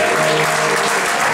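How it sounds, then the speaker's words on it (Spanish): A brief burst of steady audience applause, dense and fairly loud, fills the short moment after a song's creator is thanked at a live music event. "Un aplauso para Diego, que no lo vean"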